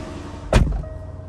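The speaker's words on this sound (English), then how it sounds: "And I'll close the door just to keep the sound down." A Jaguar F-Type V8 R AWD car door shuts with a single solid thud that briefly rings over a low, quiet background.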